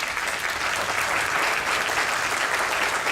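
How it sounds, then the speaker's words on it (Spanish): Audience applause for a lecture speaker at UPIITA, a steady, dense wash of clapping from a full hall that holds evenly loud for the whole stretch with no talk over it. "Démosle un fuerte aplauso,"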